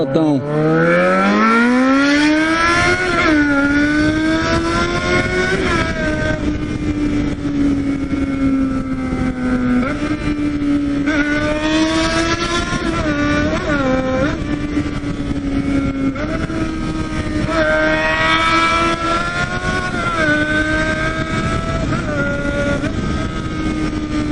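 Jeep Cherokee XJ engine running with a straight-pipe exhaust while driving, a loud, continuous raspy drone rising and falling as the revs change, with no pauses throughout.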